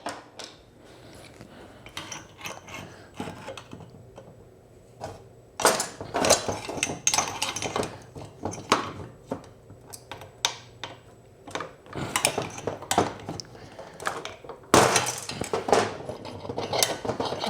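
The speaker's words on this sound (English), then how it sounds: "Let's see if we can just pop this flywheel up." Flywheel being pried off a Troy-Bilt TB400 leaf blower engine: a run of sharp metallic clinks, taps and scraping knocks, irregular and close, growing busier partway through, with no talk.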